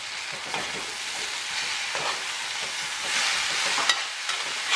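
Sliced bitter melon frying with wiri pepper in a Caribbean-style fry, a continuous bright sizzle broken by several spatula scrapes and stirs, close and fairly loud with no talking.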